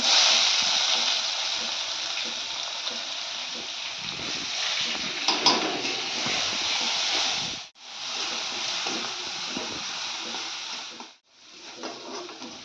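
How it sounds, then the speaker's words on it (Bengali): Garlic and panch phoron frying in a hot pan give a loud, steady sizzle, broken by two brief dips in the crackle near the end, with no voices. "রসুনটা আমি ভালো করে ভেজে নিয়েছি গন্ধও বেরিয়ে গেছে"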